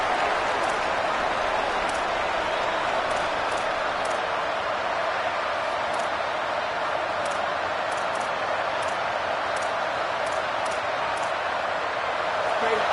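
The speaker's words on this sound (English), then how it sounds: "The roar of the crowd trying to fuel this defense to keep them pinned in their own end." A stadium crowd at a Clemson versus South Carolina football game roars loudly and continuously to spur on the defense, a dense unbroken wash of noise with sharp claps or ticks scattered through it.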